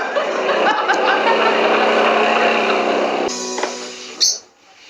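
A motorbike engine strains loudly and steadily with a harsh, buzzing drone, then shifts pitch and tone partway through before cutting off near the end with a brief sharp rise.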